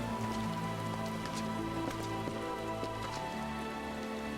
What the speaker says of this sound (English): Rain's back.